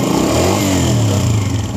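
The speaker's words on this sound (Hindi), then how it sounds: "इसको थोड़ा एक्सीलेटर देते हैं" A 2022 Honda CG125 motorcycle engine with a sound problem revving under throttle, a loud close single-cylinder drone with mechanical clatter rising in pitch.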